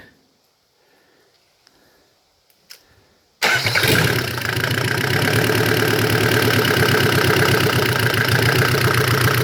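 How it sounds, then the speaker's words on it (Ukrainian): A Mercedes OM604 diesel engine with a mechanical injection pump, taken from a Vito W638, is cranked after glow plugs heat and fires up suddenly, then settles into a loud, steady clattering idle. "Так, Пробуємо запустити, гріємо свічки і в бой."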